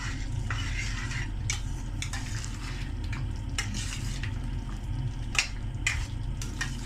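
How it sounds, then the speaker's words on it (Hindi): Liver kaleji frying in masala in a pan, a loud continuous sizzle with a spoon stirring and scraping against the metal in repeated clinks, close up and without talk. "अब जो थी कलेजी वो इसमें डाल के अच्छी तरह अब मैं इसको फ्राई करना शुरू कर दूंगी"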